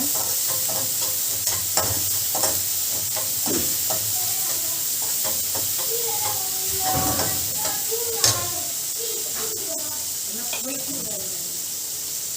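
Palak and potato gravy sautéing in a pan while being stirred, with a steady hissing sizzle and frequent scraping and knocking strokes, close and continuous.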